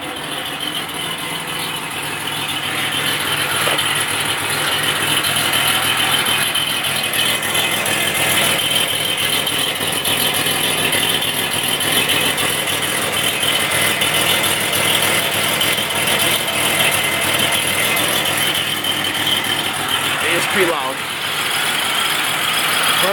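Car engine with headers, a 3-inch downpipe and stock mufflers idling steadily, a low rumble with a broad hiss running throughout, with a voice talking over it.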